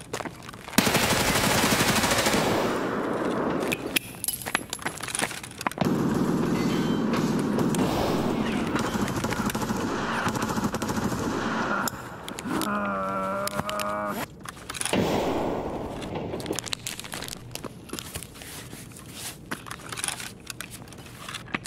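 Automatic gunfire in Escape from Tarkov, loud and close in long sustained bursts with brief breaks, broken by a short stretch of rapid rattling clicks midway, then continuing in choppier fire toward the end.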